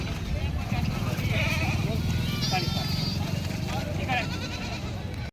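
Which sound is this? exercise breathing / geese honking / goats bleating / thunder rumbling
goats bleating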